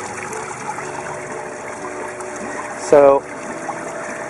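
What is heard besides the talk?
aerated water flowing through pipe into aquaponics fish tank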